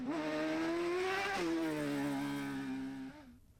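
A Demon Buggy rally car at a rally stage revs loud and close, its engine note climbing, dropping sharply on a gear change, then sustaining before fading at the end.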